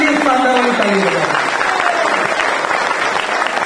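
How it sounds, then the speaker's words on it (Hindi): A seated audience at a business achievers' gathering in Shimla breaks into loud, dense applause. The sustained clapping carries on at full strength the whole time, with faint music under it. "एक बार सभी बादशाहों के लिए आप लोग अपने नाम पे, अपने आप के लिए शानदार वाली ताली बजाएं।"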